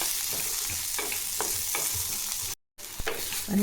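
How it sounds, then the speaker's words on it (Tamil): Turkey berries sauté in a hot pan, with a steady sizzle broken by scraping stirs at an irregular rhythm, close and moderately loud, with a brief gap partway through. "ஒரு நூறு கிராம் சு சுண்டக்காய் எடுத்துக்கிறோம் இதை நல்லா வதக்கி எடுத்துக்கலாம்"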